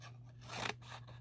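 Scissors cutting paper tabs for a craft food cart, a single close, quiet snip-and-slide of the blades over a faint steady hum.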